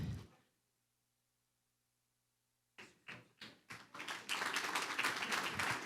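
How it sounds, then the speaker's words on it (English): Applause from the audience at a city State of the City address starts after a silent gap as a few scattered claps, then quickly swells into full, steady clapping from many hands. "I love the applause before I've even said anything."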